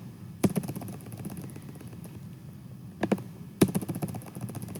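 Quick clusters of keystrokes on a computer keyboard as answer text is entered into quiz question boxes, three separate bursts of crisp clicking over a low steady room hum, with no talking.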